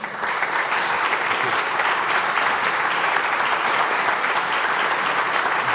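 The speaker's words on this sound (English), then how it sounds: "I want to give a round of applause to our panelists" Sustained audience applause for the panelists at the close of a space-themed session at a 2024 resilience conference, a steady, moderately loud wash of clapping from a seated crowd throughout.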